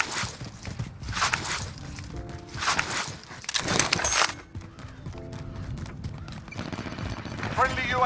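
Video-game gunfire, including nail gun fire, breaks out in several bursts of rapid shots that come and go among footsteps and other game noise, with lulls between the volleys.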